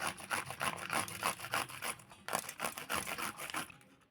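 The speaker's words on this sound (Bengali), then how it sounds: "এবারে গ্রেট করে নেব যে কাঁচা লঙ্কাগুলো নিয়েছিলাম সেগুলো" Raw green chillies are rubbed across a kitchen grater in quick, rhythmic scraping strokes, close and crisp, with a brief pause midway before the strokes resume and then taper off.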